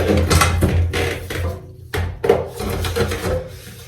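Close scraping and grinding of a drain snake cable twisting in a bathtub drain pipe, in rough bursts with short pauses and a few sharper snaps.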